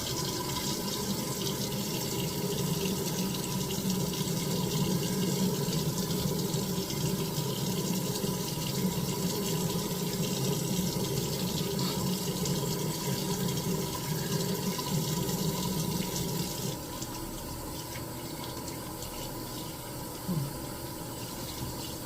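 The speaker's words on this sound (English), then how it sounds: "now I'm going to rinse it off with warm water." Warm tap water runs steadily from a faucet while a face mask is rinsed off, a continuous hiss and splash that drops a little in level near the end.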